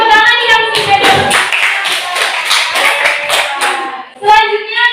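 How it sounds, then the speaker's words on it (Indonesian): Students in a classroom clap together in a loud, close burst of quick hand claps, with voices chiming in near the end. "Beri tepuk tangan yang sudah dapat"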